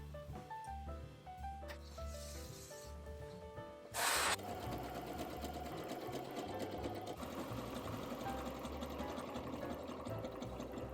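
A sewing machine stitches the center back seam of a knit dress, running steadily for the whole stretch at close range after a short burst of louder start-up clatter, with a faint whine riding over the motor.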